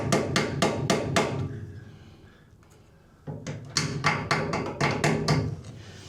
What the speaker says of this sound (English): so a pair of pipe grips turns into a hammer